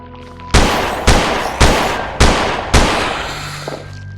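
Gunfire in a video game: five loud, evenly spaced gunshots, each a sharp crack with a short decaying tail, about half a second apart, with no voices.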